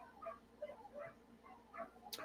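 Several dogs whimpering and yipping in a run of high, whiny cries, about six short bursts at an uneven pace, moderately close but not loud, ending with a sharp click.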